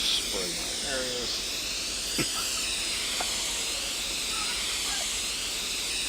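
A steady spray hiss from spraying areas in the Drug Dealer Simulator video game, continuous across the whole stretch, with faint background game sounds and brief clicks over it.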